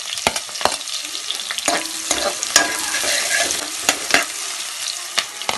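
Chopped onion with crushed ginger and garlic frying in a pan for chicken biryani, a steady sizzle broken by repeated scraping stirs and clinks of the spoon, close up.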